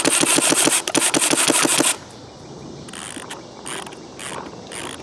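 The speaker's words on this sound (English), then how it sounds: "winding it is simple, but it takes a little bit of time" A battery-free mechanical paintball hopper is wound by hand, giving a fast, loud ratcheting click train for about two seconds, then quieter intermittent clicks and mechanism rattles.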